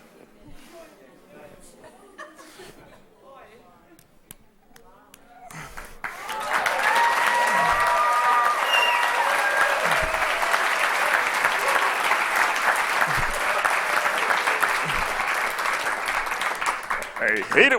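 A stand-up comedy club audience bursts into loud, sustained applause after a juggling trick with a machete, hatchet and meat cleaver, swelling from scattered sounds into a dense roar of clapping that holds for about ten seconds, with a few chuckles and chatter mixed in.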